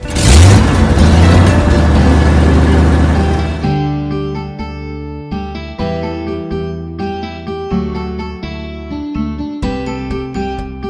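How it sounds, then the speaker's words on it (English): A jeep engine roars and revs loudly for a few seconds in a single dense burst, then fades out as bouncy music takes over. "Jeep."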